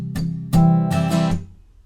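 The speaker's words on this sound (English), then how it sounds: "it's my personal preference to palm mute the strumming pattern" Palm-muted strums on an acoustic guitar ring out close and clear, a few quick down and up strokes with damped, chunky chords before fading to silence.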